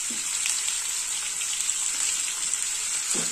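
Ginger garlic paste fries in hot oil with a steady, bright sizzle throughout, close and even, with a few faint clinks of stirring.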